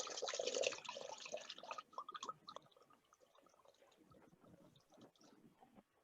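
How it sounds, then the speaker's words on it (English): A liter of red wine poured into a cooking pot, a steady close liquid rush that is strongest at first and then thins into trickles and drips as the pour finishes. "while you're pouring in the red wine"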